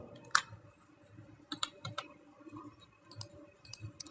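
Keys tapped on a computer keyboard while working in Excel: a sparse, uneven run of light clicks and taps at close range, with no talking over them.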